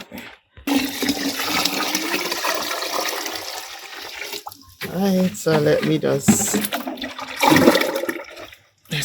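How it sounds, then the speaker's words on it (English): Plain water poured into a container of plant tea for watering container-grown yams, a steady rushing gush running for several seconds under a person talking nearby. "So I'm going to add some water to this."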